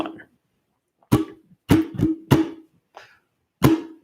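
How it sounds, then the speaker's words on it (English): Sharp guitar strums sound one at a time in a loose rhythm, some single and some in quick pairs, with short silences between them. "We'll see if we can start with the strum pattern"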